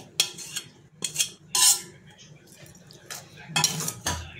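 Lemon pieces tipped into a pan for a sweet lemon pickle and stirred, producing a few sharp metallic spoon scrapes and clinks against the pan in irregular bursts, close and crisp with quiet gaps between.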